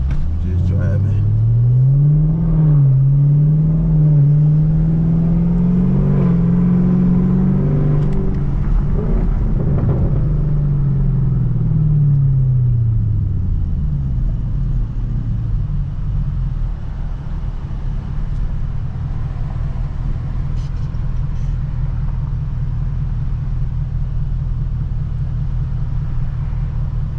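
A Camaro SS engine drones and rises through city traffic during rush hour, its low exhaust note climbing and falling across gear changes before settling into a steadier rumble, with someone talking over it at times.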